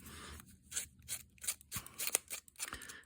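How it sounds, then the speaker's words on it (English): Scissors roughing up the edges of paper for an aged look in an art assemblage shrine project, a series of short, crisp snipping and scraping strokes repeated at an uneven rhythm, close and fairly quiet with no talking. "I'm just going to rough them up with scissors"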